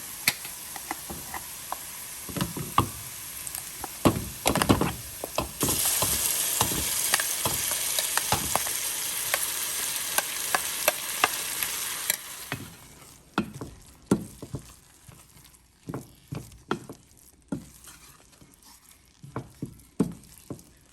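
Spices for kundu dosai temper in hot oil, a bright sustained sizzle running under frequent clattering stirs and taps, close up; the sizzle fades midway and leaves scattered utensil knocks.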